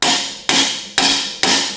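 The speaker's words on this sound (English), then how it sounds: "I apply pressure with a hammer" A hammer strikes a metal punch four times at an even pace about half a second apart, each hit a loud, close, sharp clank that rings briefly as metal is bent for an Apollo forge build.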